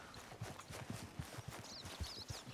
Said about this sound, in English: Where's the other horse?